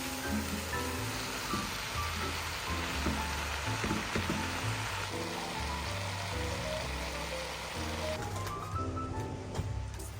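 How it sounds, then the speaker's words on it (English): Minced garlic and vegetables sizzling in a soup pot, a steady close crackle of frying that runs throughout at moderate loudness, with a low hum in the background and no voices. "I add some minced garlic, and then I add the vegetables to the pot one by one"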